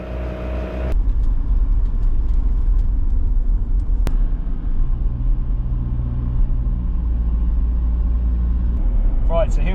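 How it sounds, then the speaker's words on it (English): A Toyota Troop Carrier 4WD drives on the Mount Panorama racetrack at Bathurst, a loud steady engine and road rumble from inside the cabin with a brief click partway through. "The Troopy's getting a run on the Mount Panorama racetrack."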